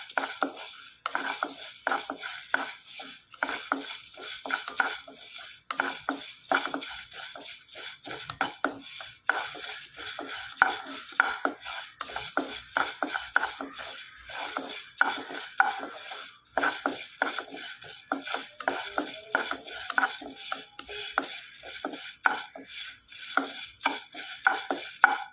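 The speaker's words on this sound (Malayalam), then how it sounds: "മുതിര ചേർത്ത് നന്നായിട്ട് ഒന്ന് വറുത്തെടുക്കണം." Horse gram dry roasting in a pan while a utensil stirs it continuously, giving steady scraping and rattling of seeds against the pan with faint sizzling, close and alone, no talk.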